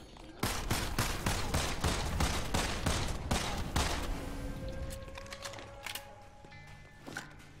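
Rapid gunfire from a first-person shooter, Immortal Redneck, fast repeated shots crackling steadily for several seconds, then thinning into a few scattered bursts with electronic tones, loud and close.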